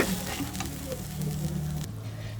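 A spice paste fries with a splash of water in a pan for a Bengali dish of koi fish steamed with ash gourd leaves, giving a faint, short sizzle with light stirring scrapes.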